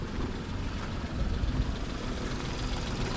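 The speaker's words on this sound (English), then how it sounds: "Now you can hear the engine." Hyundai Eon small car engine idling, a steady muffled mid-low hum with slight rhythmic knocking, fairly quiet and continuous with no talk.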